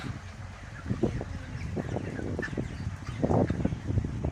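Chickens and roosters in a village yard give scattered low clucks and short calls at close to moderate distance, mixed with outdoor rustling and faint background noise.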